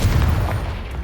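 A Confringo explosive spell blast goes off in Hogwarts Legacy, a deep booming rumble that stays heavy and sustained for about a second before tapering off slightly, with no voices over it.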